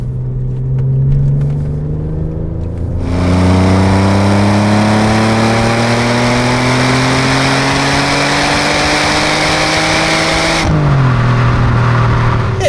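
An Alfa Romeo 147 GTA's Busso V6 engine revs loudly and climbs steadily in pitch through the gears, with a brief drop near the end as it shifts, then pulls again.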